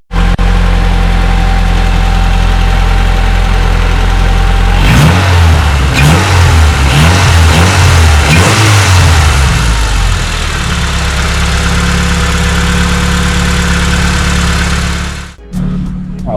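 A 1991 Honda Accord CB7 fitted with new exhaust headers idles, then revs hard in several quick, loud bursts before settling back to a steady, rumbling idle that cuts off abruptly near the end.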